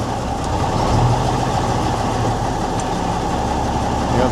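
A Mack R600 truck that has sat for 12 years, its engine cranking and turning over with a loud, steady low rumble that continues without a break.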